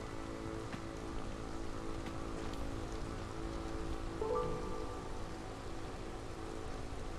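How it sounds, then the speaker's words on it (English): Rain falls steadily in the fantasy city-builder game Against the Storm, a continuous dense patter spread evenly through the whole stretch with no voices. "The rains have fallen again."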